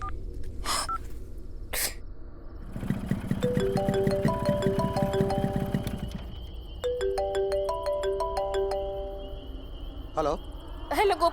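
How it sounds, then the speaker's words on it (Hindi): A phone's melodic ringtone plays repeatedly in a stepped tune during an outgoing call, heard faint and tinny with a low hum underneath and brief voices around it. "गोपी भैया को फोन करती हूँ"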